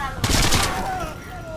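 A sniper rifle headshot in the video game Sniper Elite 3 gives one sharp, loud gunshot crack that rings and decays over a second, with game sounds and a voice mixed in around it.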